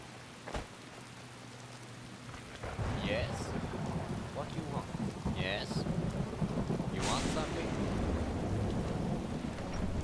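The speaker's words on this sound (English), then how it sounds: "Damn that thunder." Rain and a thunderstorm in the video game Skyrim at Helgen, with a sharp crack early on, then a loud, steady downpour with low rumbling thunder and a few brief higher in-game sounds over it.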